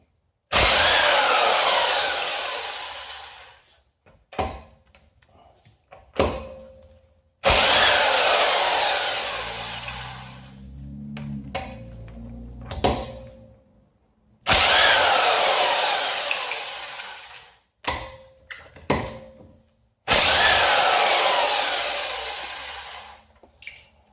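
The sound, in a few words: Harbor Freight electric impact wrench on car lug nuts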